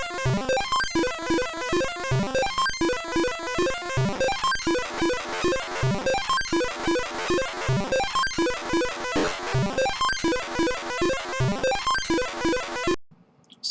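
Synthesizer tone shaped by a modulation table, with vibrato that starts slight and grows deeper, played as a dense run of rapid repeated notes at steady loudness before cutting off near the end.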